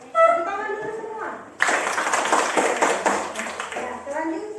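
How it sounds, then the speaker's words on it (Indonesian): A classroom of children breaks into unison hand clapping after a teacher's short spoken instruction; dense, loud claps run for several seconds before fading, with a voice heard at the very end. "Tepuk tangan dulu semua."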